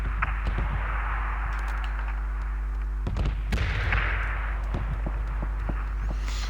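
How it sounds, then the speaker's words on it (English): Airstrike explosions in PUBG sound as heavy booming thuds and sharp blasts, some near and some distant, over a constant low rumble and hum from the game. "Well done, we avoided that airstrike"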